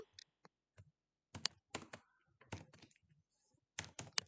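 Typing on a computer keyboard while entering HTML code, irregular clusters of crisp key clicks with short pauses between bursts, close and fairly quiet, no voice over it.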